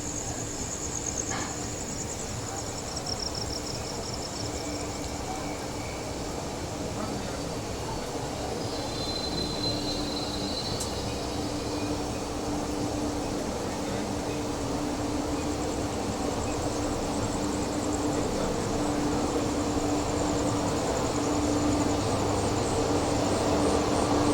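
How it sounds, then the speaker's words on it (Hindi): Tulsi Express rolling past on Indian rails, a steady loud rumble of wheels and carriages with metallic squeal and clatter, continuous and close throughout, with insect chirping faintly beneath. "ये है तुलसी एक्सप्रेस"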